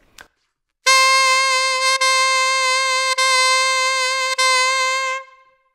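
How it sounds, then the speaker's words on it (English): A saxophone holds a single bright, steady note for several seconds, briefly broken by a few tiny clicks as the tongue touches the reed. "their tongue keeps hitting the reed when they're doing vibrato"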